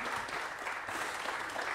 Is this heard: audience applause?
yes